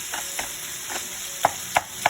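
Light scraping and tapping of a utensil breaking up and mixing raw sausage with fresh Italian herbs in a bowl, a handful of soft strokes then three sharper clicks near the end, close and quiet.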